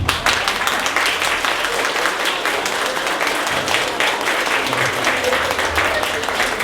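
Sustained applause from an assembled audience of teachers and guests for schoolchildren at a national primary-school anthem competition, a dense, steady wash of many hands clapping throughout.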